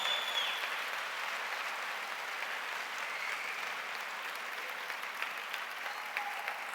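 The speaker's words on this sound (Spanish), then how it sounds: "Da un aplauso al Señor." A church congregation claps together in sustained, even applause that stays dense and steady throughout, heard from within the room with no one speaking over it.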